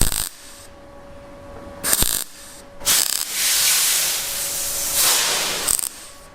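Welding on a 1970s Dodge tailgate gives a sustained crackling, hissing buzz that comes in bursts, with short breaks between passes and a long steady run in the middle, fairly close and loud.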